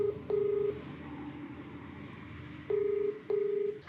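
Telephone keypad tones beep in four short bursts as a call is dialed, two early and two later, with quiet room noise in between and no talking.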